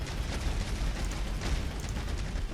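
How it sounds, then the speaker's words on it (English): Fireworks in an indie Unity game, a continuous rumble of low booms and crackling bursts heard at moderate loudness with no talk over it. "Look at those beautiful fireworks."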